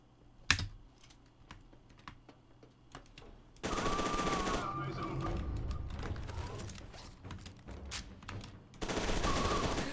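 Automatic gunfire in the shooter game F.E.A.R. 2 rattles in sustained loud bursts after a stretch of sparse keyboard clicks and taps, fairly close, with little talk.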